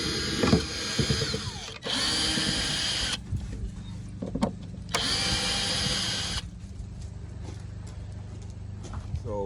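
A power drill or driver works on the cover of a 12-volt fuse box in a boat, car, truck or RV install, two loud bursts of whirring broken by clicks and handling noise, close up.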